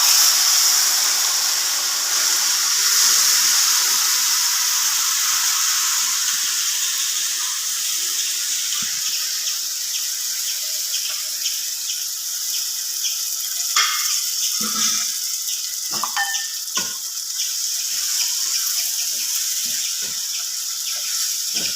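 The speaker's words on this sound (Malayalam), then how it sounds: "ഞാൻ ഇതിലോട്ട് ഈ ചക്ക ഒഴിച്ചു കൊടുക്കുകയാണ്." Jackfruit pours into a cooking coconut mixture, giving a continuous close hiss and sizzle with some splashy bursts and bubbling toward the end.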